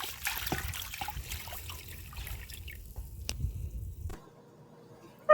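Maple sap is dumped from a container into a bucket outdoors, giving a few seconds of splashing and trickling before it stops abruptly.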